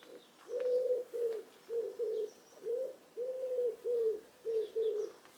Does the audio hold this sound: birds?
yes